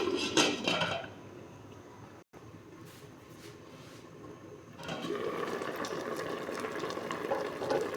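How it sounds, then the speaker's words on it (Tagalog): Metal pot clatter as a lid is set on a pot of simmering tulingan fish with coconut milk, a brief clang then a quieter stretch before kitchen clatter and bubbling resume nearby. "Takpan ko muna saglit."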